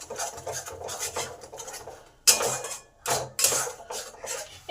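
A thick paste of ground pea peels is stirred in a pan, producing repeated scraping and rubbing strokes of a utensil against the metal, close and rhythmic with short pauses between strokes.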